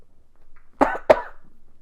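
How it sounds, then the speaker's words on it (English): A short, close throat clearing in two quick rough bursts, then quiet. "Hold on, I'm clearing my throat."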